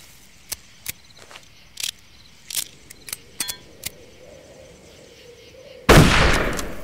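Old rifle fired in Darkest of Days, a single loud, abrupt shot near the end that decays into a rumbling tail, preceded by a series of soft clicks and handling taps.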